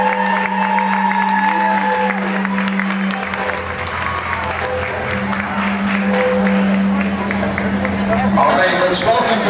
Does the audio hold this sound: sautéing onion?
no